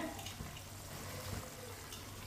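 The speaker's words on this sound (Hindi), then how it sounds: "पानी को बॉयल आ चुका है।" Water boiling in a cooking pot while making aloo gobhi, a steady, soft bubbling and hissing rush, continuous and fairly faint, with no voices.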